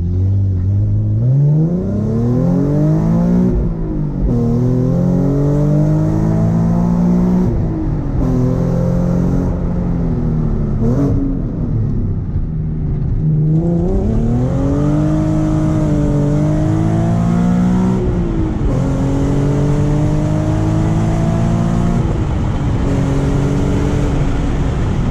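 A car fitted with a throttle controller accelerating hard, its loud engine revving rising in pitch and dropping sharply at each crisp gear change, repeated several times in a continuous close drive.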